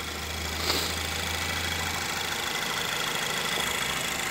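A 2.5-liter Chevrolet Malibu engine, freshly replaced, runs at a steady idle with a low, even hum and a faint tick throughout, with no talking.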